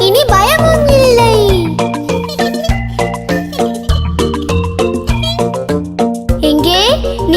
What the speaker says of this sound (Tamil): குட்டி பூனைதான் இங்க துரத்துது, meow meow meow meow meow